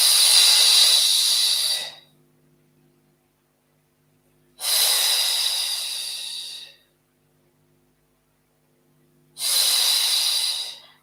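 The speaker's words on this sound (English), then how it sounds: "Keep that breathing pattern going." Slow, rhythmic breathing during a Pilates exercise, three long, loud hissing breaths close to the microphone, each about two seconds, separated by silent pauses.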